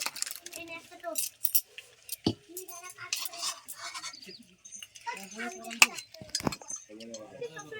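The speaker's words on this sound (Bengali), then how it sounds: "টক শাকের টকটাও আমি একটা পাত্রে ঢেলে নিচ্ছি" Sour spinach curry being spooned into a serving bowl in a home kitchen, with light metallic clinks and taps of utensils against dishes scattered throughout while someone talks over them.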